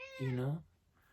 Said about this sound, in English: My cat just walked in.